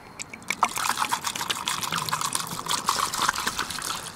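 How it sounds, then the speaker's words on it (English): Tequila glugs from a 1.75-liter bottle into a truck's gas tank as a steady, close trickling pour that runs for several seconds with no voices. "after we put a gallon of tequila in there"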